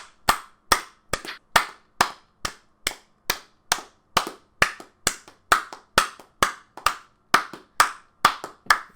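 Hands clap in a slow, evenly spaced rhythm, about twenty sharp, distinct claps close by with quiet gaps between them and no talking.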